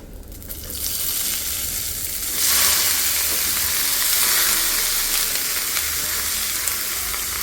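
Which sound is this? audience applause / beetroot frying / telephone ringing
beetroot frying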